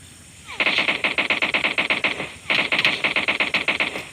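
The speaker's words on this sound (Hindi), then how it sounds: "देख सकते हैं मिनी मैप में किस प्रकार फायर करने की आवाज़ आ रही है और ये गोली के निशान आ रहे हैं।" Gunfire in the PUBG video game comes as two rapid automatic bursts, each a fast, even run of loud sharp shots with a brief gap between them.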